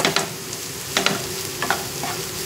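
A spoon stirs cabbage and carrot frying in a pan, giving irregular scraping clicks and clatters over a soft, steady sizzle, close up with no voices.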